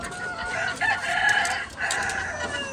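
White leghorn chickens vocalize in a poultry pen with a steady run of loud, close clucking and drawn-out calls, and no talking.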